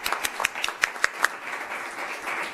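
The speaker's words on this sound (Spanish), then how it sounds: "Para ambos también pido un aplauso" An audience at a press conference gives brief scattered applause, a few sharp distinct claps standing out over a soft patter of hands.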